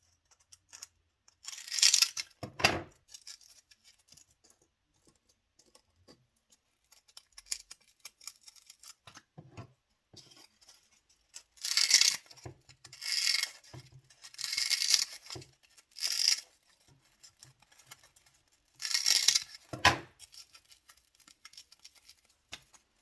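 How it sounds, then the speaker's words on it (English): Scissors snip through scrap pieces of styrofoam for a DIY Valentine's fake-bake decoration, in several separate bursts of close crisp cutting and scraping with quiet gaps between. "some scrap pieces of styrofoam. I'm just going to cut them to size"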